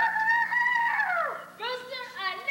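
A human voice mimics a rooster's crow, a long rising-then-falling call followed by a second, choppier crowing phrase, close and loud with no other sounds.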